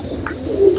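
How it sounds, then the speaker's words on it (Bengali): A pigeon coos once, close and brief, a soft low throaty note over faint background murmur. "এখানে বেশ কয়েক রকমের কবুতর রয়েছে"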